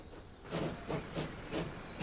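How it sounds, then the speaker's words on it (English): A train riding on rails in Transport Fever, a rail transport video game, rolls past with a steady clickety-clack rhythm of wheels over track joints above a soft constant hiss, fairly quiet and with no talking. "let's get on board this train"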